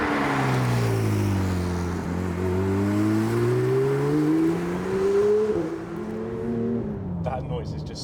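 A Porsche 992 GT3 with a naturally aspirated engine and Capristo exhaust revs hard and loud in rising, sustained pulls, with a brief dip and another climb before it eases off near the end.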